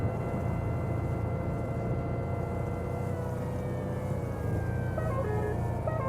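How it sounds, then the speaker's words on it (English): A long wailing tornado siren rises and holds over a constant low rumble, sounding distant and sustained, with no talking. "Oh, you guys hear that? Tornado sirens going off."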